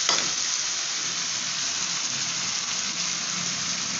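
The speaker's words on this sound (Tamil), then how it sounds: "நல்லா ஃப்ரை பண்ணுவோம்." Mushrooms fry with masala in a pan, giving a steady, close sizzle that holds evenly throughout without any talk.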